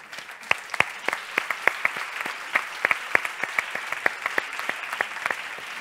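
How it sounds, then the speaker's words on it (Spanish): Sparse, scattered hand claps from a small audience at a sustainability conference talk, individual sharp claps repeating unevenly and fairly close, no voices over them. "Y también quería darles un aplauso porque muchos están aquí"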